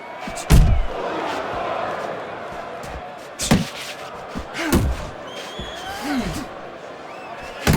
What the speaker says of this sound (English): nailed by a huge hook